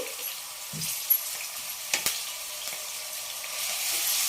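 Ginger garlic paste fries in a pan with a steady soft sizzle, broken by a couple of brief scraping stirs of a spoon, close by with no talk.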